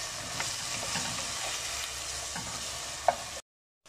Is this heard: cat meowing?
no